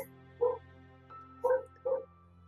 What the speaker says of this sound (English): You can hear in the background there the